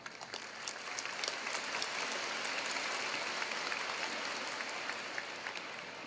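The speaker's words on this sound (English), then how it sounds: "Let's give them a round of applause." High school graduation crowd in a large venue gives a steady round of applause, heard as a faint, distant wash of many hands clapping that holds evenly before easing slightly.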